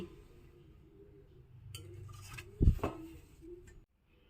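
Metal cake tin holding an eggless marble cake set down on a cooling stand, a short clatter and a sharp clink near the end over faint kitchen background, fairly close.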